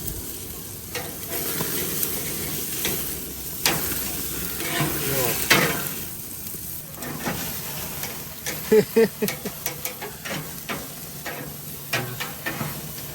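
Ribeye steaks searing over high heat on a grill, fat rendering and sizzling in a steady crackling hiss with a few sharper pops and scrapes, close and moderately loud, with no talk.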